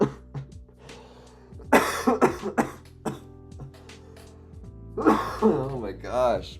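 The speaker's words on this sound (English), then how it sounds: "this cough is wrecking me" A person coughing hard in bursts, several harsh coughs and throat clearing close to the microphone, with gasping breaths between and quiet background tones underneath.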